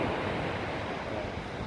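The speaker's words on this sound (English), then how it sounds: "I'm sure you can hear the ocean in the background, lapping on the shore." Ocean waves wash steadily onto a sandy beach, a continuous broadband surf roar with some wind noise, close and fairly loud, with no voices over it.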